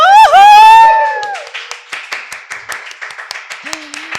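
A short burst of voice gives way to a steady run of about a dozen crisp hand claps from a small group in a podcast studio, fairly close and evenly paced.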